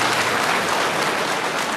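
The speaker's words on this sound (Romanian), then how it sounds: "puteți să-i aplaudați cu un mod serios" Dense, steady applause from an audience at a school prize-giving ceremony, welcoming the high school boys who hand out the diplomas. Loud and continuous, a sustained wash of many hands with no talk over it.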